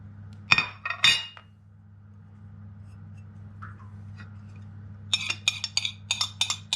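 Dishes clink sharply twice near the start and again in a quick run of light taps near the end, set against a steady low kitchen hum while a Spanish lemon almond cake is being mixed.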